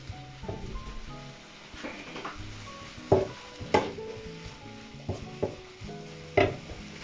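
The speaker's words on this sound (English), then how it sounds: "sizzle in the pan." Ham and cheese melt sizzling in a frying pan, a soft continuous crackle under several sharper clinks and scrapes of a utensil on the pan, recorded close with no talking.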